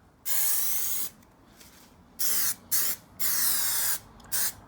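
Spray glue hisses from a fanned-out nozzle onto vinyl upholstery for a car's rear door, sounding as close, steady bursts of hissing, two long sprays and several shorter ones separated by brief pauses.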